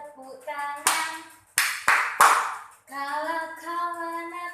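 A group claps hands four times in time with a children's sing-along song, the claps bursting loudly over sustained sung voices that carry on before and after them.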